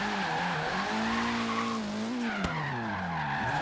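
Tires squeal continuously as an all-wheel-drive car drifts with handbrake and full throttle in Forza Horizon 3, a steady wavering screech over engine drone lasting the whole stretch, with a brief sharp crack midway.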